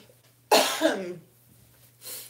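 A single loud cough, close up, followed by a short breath a moment later, in an otherwise quiet room.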